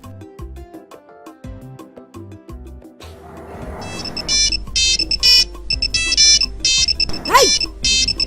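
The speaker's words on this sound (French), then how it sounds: "Le téléphone." A telephone ringtone plays as a repeating pattern of bright electronic tones, loud and close, mixed with voices and background noise.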